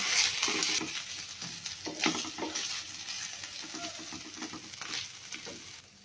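Fried onion is stirred with ginger, garlic and cumin paste for beef haleem, giving a soft sizzle under a series of scraping, mixing strokes in the pan, moderately quiet and close.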